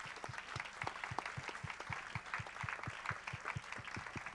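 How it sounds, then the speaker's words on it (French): A conference audience at an innovation event closing in Biarritz applauds the organizing committee, a steady, moderately distant clapping with a few heavy rhythmic thumps running through it. "les applaudir"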